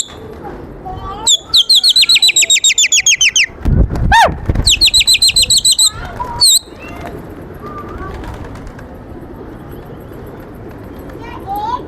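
Pigeons in a loft of rare desi breeds making loud rapid chirping trills in repeated bursts, with wing flaps and short coos, alongside someone talking and background noise.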